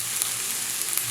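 Butter sizzling in a hot pan with blanched asparagus and other vegetables, a steady close hiss and crackle that holds at an even level throughout.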